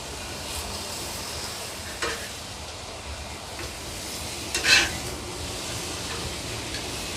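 A ribeye steak searing in a cast iron pan on a MasterBuilt 1050 grill, a steady hiss and sizzle with occasional louder crackles and a sharp metallic tap partway through.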